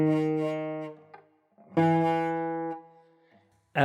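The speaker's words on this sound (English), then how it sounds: "learn to be able to make your fretted notes sound like this" Two cleanly fretted guitar notes or chords ring out one after another, each sustaining and fading, close and moderately loud with no talk.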